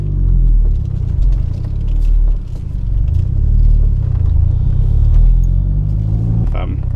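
A modified Toyota SW20 MR2 Turbo being driven, heard from inside as a loud low rumble that swells and eases with the revs, with a brief sharper sound near the end.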